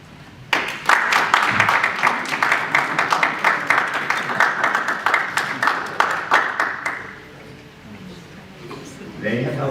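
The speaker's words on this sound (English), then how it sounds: "please stand up, turn around, and give a round of applause to your family, your instructors, and everyone who has made this day possible" A graduation ceremony audience breaks into dense, sustained clapping that runs for several seconds before fading out, and a voice follows at the end.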